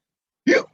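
A single short voiced hiccup, imitated by a storyteller for a cat character in a children's story, sharp and close, about a quarter second long in otherwise silent surroundings.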